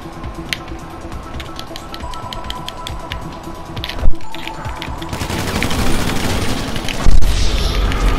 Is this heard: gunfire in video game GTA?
yes